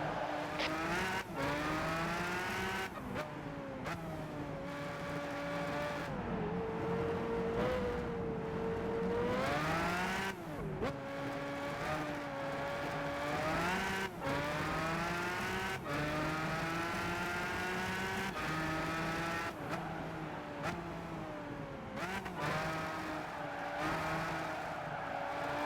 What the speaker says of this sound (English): This car does seem to slide out.